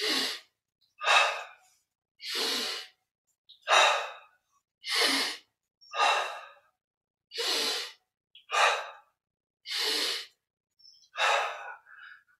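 Slow, deep breaths during a yoga and meditation exercise, about ten separate airy inhales and exhales, each lasting roughly a second with short silent pauses between, close and clear with no other sound.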